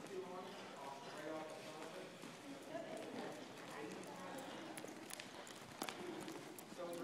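A horse jogging in a circle in an arena, its hoofbeats a steady near clip-clop running through the whole stretch, with a person talking over it throughout.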